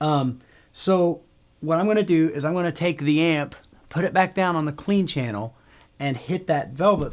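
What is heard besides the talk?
No everyday noise stands out behind the speech.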